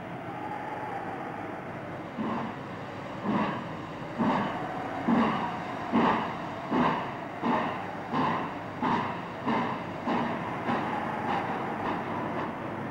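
A train rolls steadily along the tracks, wheels clacking in an even rhythm over a continuous low rumble.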